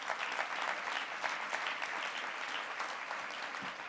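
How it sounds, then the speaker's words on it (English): A dense, steady wash of applause from a large audience honouring Judy Smith at an opening-remarks event, clapping sustained evenly for the whole stretch with no voices standing out. "Let's have a round of applause for Judy Smith."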